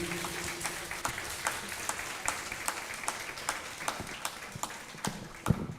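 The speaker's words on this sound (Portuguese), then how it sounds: "Então aplauda o nome do Senhor Jesus." A church congregation claps steadily, a dense patter of many hands with sharper individual claps standing out, continuous and moderately loud.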